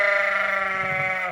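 A stressed ewe in a lambing barn bleats loudly, one long harmonic, wavering cry held for over a second, close and dominant.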